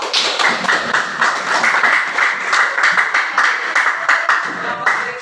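Classroom applause follows group 2's discussion, a close, lively round of many hands clapping in a fast, even patter that holds steady throughout, with some light taps mixed in.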